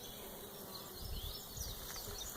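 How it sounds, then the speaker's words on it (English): Honeybees hum softly around an open hive frame at close range, a faint steady buzz under the outdoor hush, with a short bump of handling noise at the very end. "And see all those fuzzy bees right there?"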